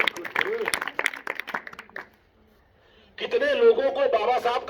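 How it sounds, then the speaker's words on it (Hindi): A school class claps after a student is called up, a short burst of applause rising at the end after someone speaks over a brief pause. "ताली बजाओ यार"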